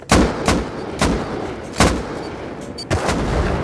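C4 explosions in the survival video game Rust: a series of five heavy, booming blasts spaced irregularly, each with a sharp onset and rumbling decay, loud and close with no voices.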